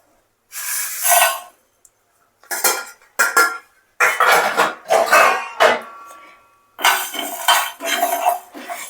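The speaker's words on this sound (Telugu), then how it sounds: "ఈ దినుసులన్నీ కొంచెం స్మెల్ వచ్చేంత వరకు ఇలా ఫ్రై చేసుకోవాలి." Whole spices, including cardamom, are fried in a pan over low flame for chicken pickle. A metal spatula scrapes and clinks against the pan in loud, close bursts separated by short pauses.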